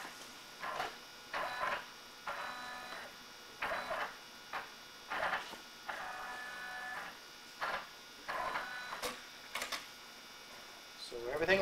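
A Brother PR620 embroidery machine tracing a cap design runs in short, quiet whirring motor bursts separated by pauses, with faint ticks and a low hum between moves.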